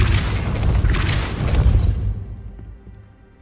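Depulso spell effect in the Hogwarts Legacy video game, a loud booming whoosh with a crashing burst that swells, then fades into quiet over a few seconds.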